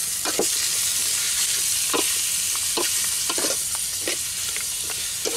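Food is stir-fried in a pan over a wood fire, with a loud continuous sizzle and intermittent scraping stir strokes of the utensil throughout, no talk.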